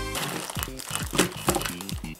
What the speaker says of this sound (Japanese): プラレールをビニール袋から出します。